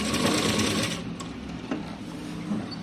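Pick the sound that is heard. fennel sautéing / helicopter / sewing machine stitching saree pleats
sewing machine stitching saree pleats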